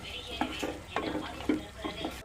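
A spoon scrapes and stirs carrot halwa paste frying in ghee in a pan, with rhythmic scraping strokes and soft sizzling, close and steady.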